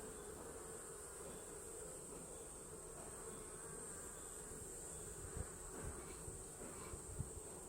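Honeybees buzz steadily around an open beehive, a dense continuous hum with occasional faint knocks and handling sounds toward the end.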